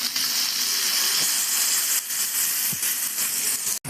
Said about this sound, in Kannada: ಈಗ ಮಾಡಿದ ಒಗ್ಗರಣೆನ ಸಾಸಿವೆಗೆ ಹಾಕ್ಕೊಂಡ್ಬಿಡೋಣ.